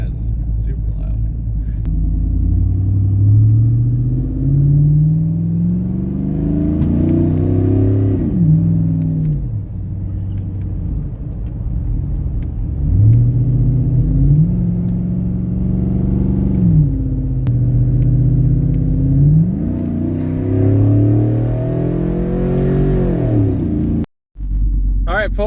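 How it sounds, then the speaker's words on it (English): A 2006 Chevy Tahoe GMT800 fitted with a shorty exhaust revs loudly and repeatedly, its deep rumble rising and falling in long sweeps as people talk over it. "the shorty exhaust is on the Tahoe"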